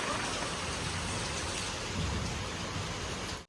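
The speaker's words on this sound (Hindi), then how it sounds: "मस्त बारिश हो रहा है," Heavy monsoon rain pours down outside a home during a birthday party, a dense, unbroken hiss of drops on surfaces that stays loud and even throughout, with no talking.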